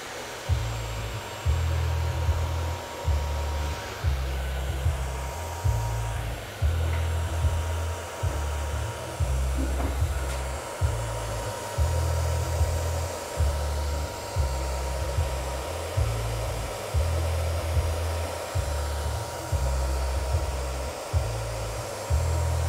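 A hair dryer fitted with a diffuser runs on short curly hair, a loud steady close whoosh of blowing air with a rhythmic low pulsing throughout.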